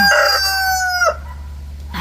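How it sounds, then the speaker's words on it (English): A rooster crows loudly and close by in a garden on a snowy day, one long drawn-out call that breaks off abruptly, followed by a brief quiet stretch and the start of another call. "Oh, look at the rooster."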